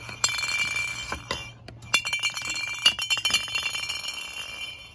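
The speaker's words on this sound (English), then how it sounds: "if he runs into them, they're gonna sound like this" Hanging garden chimes set up as a groundhog deterrent, clinking and jingling in a rapid cluster of bright glassy strikes that fade away, close and fairly soft.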